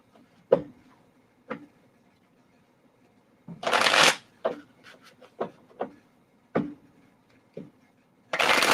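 A deck of cards is shuffled up close, with sharp riffling bursts between soft taps and flicks, in an otherwise quiet room with no talking.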